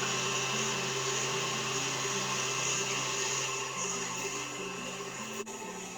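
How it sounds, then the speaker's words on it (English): Electric stand mixer whipping egg whites for marshmallows, a steady loud motor whir with a constant hum throughout, its pitch wavering slightly as the beaters run, with no voices. "now I'm going to turn on my mixer and get my egg whites whipping"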